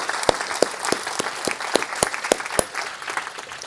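Conference audience applauding at the close of a health session, a dense run of clapping with sharp individual claps standing out at a fairly steady rhythm, sustained throughout at moderate loudness.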